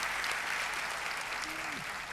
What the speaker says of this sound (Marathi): त्यांच्यासाठी एकदा सगळ्यांनी टाळ्या वाजवाव्या.